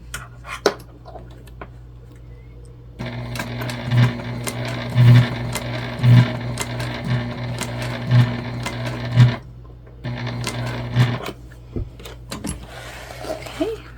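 A sewing machine stitches across a rolled tote bag handle in two runs, a steady mechanical hum with rhythmic knocks, with soft handling noises before and between the runs.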